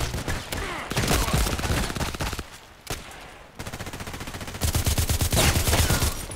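Gunfire in the video game Contract Wars, with repeated sharp shots in rapid bursts, dense and loud, breaking off briefly and then resuming in steady rhythmic volleys.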